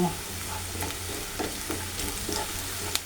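Gourd leaves stir-frying with onion and chili in a pan, a steady sizzle with occasional soft scrapes of the spatula, close and continuous with no talking.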